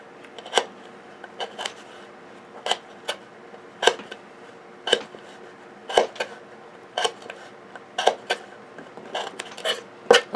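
Sharp, separate cuts from an Ontario Knife Co. RAT Model One blade slicing test material, about a dozen crisp snips spaced roughly a second apart, close and clear with no talking.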